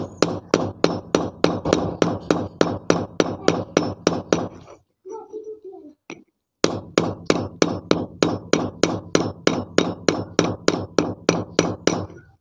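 A hammer strikes Honda CD-70 motorcycle clutch parts resting on iron in quick, evenly spaced, sharp metallic blows. The hammering stops for a short gap with a few softer sounds, then resumes at the same brisk rhythm.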